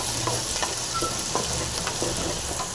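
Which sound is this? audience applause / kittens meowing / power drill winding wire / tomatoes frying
tomatoes frying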